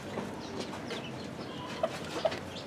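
Several hens cluck in short, scattered bursts over a busy farmyard background, with a couple of sharper calls standing out near the end.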